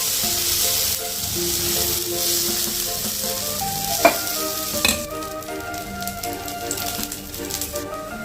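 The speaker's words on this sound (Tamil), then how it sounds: "நல்லா ஒரு கரண்டி மாவு எடுத்து ஊற்றி உடனே நம்ம ரவுண்ட் பண்ணி" Horse gram adai dosa batter sizzling on a hot tawa: a bright hiss and crackle of frying, with a couple of sharp knocks from a ladle spreading the batter, close and steady with no talk.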